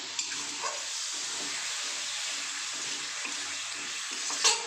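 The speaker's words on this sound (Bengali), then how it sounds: "অল্প একটু জল দিয়ে দিলাম মশলাটা যাতে খুলে না যায়" Water poured into a pan of frying spice masala for a cabbage curry gives a steady hissing sizzle that runs throughout, with a brief louder burst near the end and no talking.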